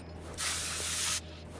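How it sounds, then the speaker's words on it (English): A single steady burst of spray-can hiss, just under a second long, coats a car wheel in a car-mechanic garage game, with quiet room tone before and after. "Spray the good stuff on it."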